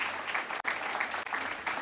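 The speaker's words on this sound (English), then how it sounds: "Give them a round of applause." Steady audience applause for the Parks and Rec department at a city State of the City address in Whitehall, moderately distant, with two brief dips.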